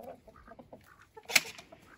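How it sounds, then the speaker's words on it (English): Roosters and geese face off in a farmyard: soft, rhythmic clucking builds to one sharp, loud squawk midway, then fades back to scattered calls nearby. "we've got a bit of a standoff happening between the roosters and the geese"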